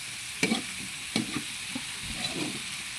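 Meat hits a pan of sautéed mixed vegetables, squash, bitter melon and long beans, with a steady sizzle broken by a few sharp stirring scrapes and clatters.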